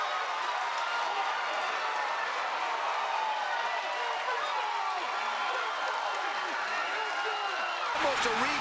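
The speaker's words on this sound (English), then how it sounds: "listen to this crowd go crazy" A baseball crowd in a stadium roaring and cheering after a hit into left center field, a dense sustained wash of noise with a play-by-play voice talking over it.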